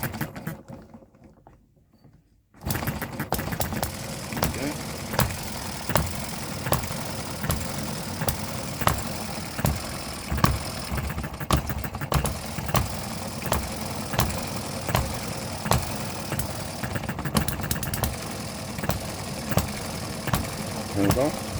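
An OKMO Microcosm M91 model hit-and-miss engine runs on Marvel's mystery oil after a brief silence, its steady, close, rhythmic firing pulses repeating with an even mechanical patter.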